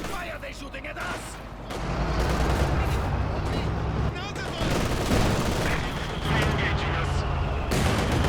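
Sustained battlefield gunfire from the real-time strategy game Company of Heroes 2, with dense bursts of rifle and machine-gun fire and heavier artillery booms rolling steadily throughout, loud and continuous with a brief lull midway.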